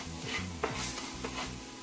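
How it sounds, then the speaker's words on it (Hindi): Spices for bread pakoda are roasted and stirred in a pan over low heat, a soft scraping stir with a faint sizzle and a couple of light utensil taps, close and quiet. "अब इन सभी मसालों को जो है भून लेंगे।"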